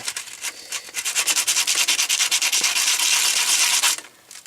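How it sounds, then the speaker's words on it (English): Sandpaper worked by hand along a rusty metal edge of a Seeburg stereo console part, making quick, rhythmic, close scratchy strokes that start soft, build to steady rubbing, then taper off. "Actually, first I want to use some sandpaper."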